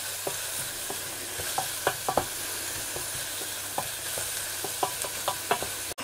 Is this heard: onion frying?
yes